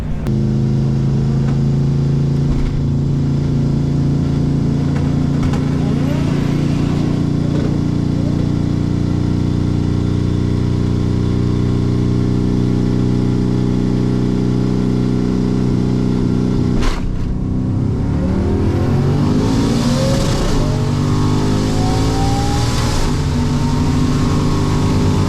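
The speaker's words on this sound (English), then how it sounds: "I definitely hit the rev limiter in first" A car engine revs hard in first gear at a drag launch and bounces off the rev limiter, a loud continuous droning roar that shifts pitch partway through, close and steady with no talk.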